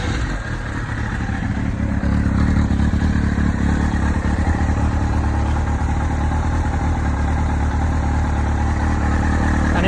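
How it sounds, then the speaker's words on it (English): Kawasaki ZX6R sports motorcycle engine running steadily at idle after a start, a loud close rumbling drone with mechanical clatter throughout and no talking. "let me start it up for you because it sounds great."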